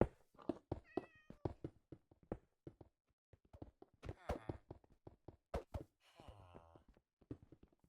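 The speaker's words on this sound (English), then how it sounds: "Here another cat, which means more string." A cat meows in the Minecraft world, a couple of faint mews among frequent clicks, footsteps and other game sounds, all quiet.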